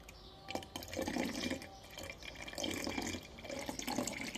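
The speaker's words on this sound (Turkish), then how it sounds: "bol bol su dökeceğiz" Water pours steadily and heavily from above, a continuous splashing gush with a few sharper splashes, close and fairly loud with no voices.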